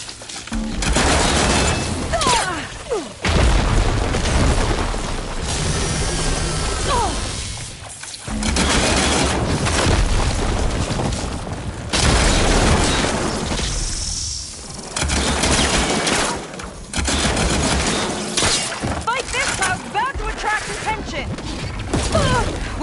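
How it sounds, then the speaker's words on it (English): A bomb goes off in a video game, heavy booms and crashes buried in dense, continuous combat noise with rapid gunfire-like bursts, loud and close throughout, with voices shouting over the din. "Bomb is going to explode!"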